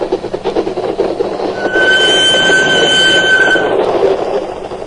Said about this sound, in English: my train crossed the border and thundered across the flat Holland marshes